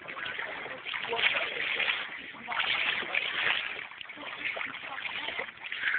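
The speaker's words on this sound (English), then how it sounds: "you can get the water flow. There it is." Water flows and splashes steadily throughout, with a rushing, sloshing wash that swells and dips and sounds coarse and band-limited as if captured on a phone, and voices can be heard faintly in it.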